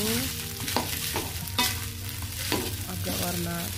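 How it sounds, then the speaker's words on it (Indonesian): Egg fried rice being stirred in a hot frying pan, a steady sizzle running throughout with repeated scraping strokes of the spatula against the pan, close and fairly loud, with no talking. "Oke, lalu kita aduk-aduk juga."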